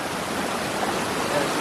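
Bhati waterfall in Netravali roaring as a steady, dense rush of falling water, constant and enveloping with no voices.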